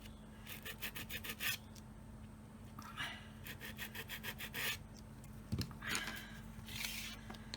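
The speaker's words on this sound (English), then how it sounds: "where there's a little bit stuck to the timber, I just sand it off like that" Sandpaper rubbed by hand over a timber picture frame to clean off stuck bits, close and fairly quiet, in short rasping bursts with pauses between strokes.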